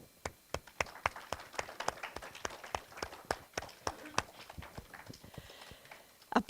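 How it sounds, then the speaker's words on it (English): A church congregation applauds one another, with scattered, uneven hand claps from a modest group, fairly close and crisp, holding steady before a last burst at the end. "Look at your neighbor and applaud them."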